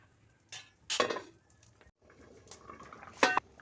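A metal lid clatters onto a cooking pot of thin vegetable and singhi fish curry. Two sharp clanks sound close by, one early and one near the end, with soft kitchen rustling between them and no talk.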